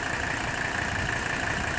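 A Mercedes 300 SD diesel engine idles smoothly with a steady, even rumble and a faint constant whine on top, close by and unbroken, with no talking.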